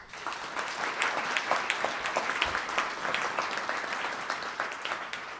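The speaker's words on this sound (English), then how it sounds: "Round of applause." Steady applause from a crowd at a State of the City and County event, dense clapping sustained throughout at even loudness, with no voices standing out.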